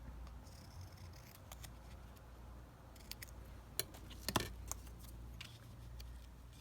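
Scissors snip through a pale pink paper pocket trimmed with a teal label cluster, making a series of short, crisp cuts, quiet at first and then sharper and closer near the middle.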